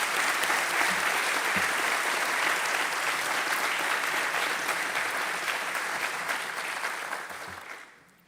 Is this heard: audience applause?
yes